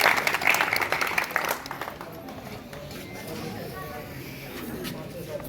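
A crowd gathered in a village in Mirjapur claps loudly for a young woman called up to speak, the dense applause strong at first and then thinning out into scattered claps and background murmur.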